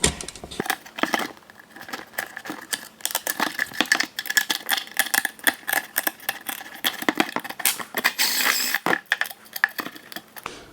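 A sharp X-Acto knife cuts through a plastic fuel tank for a 1/6th scale twin-turbine F-18 Hornet model, making close, irregular clicking and scraping bursts that come and go.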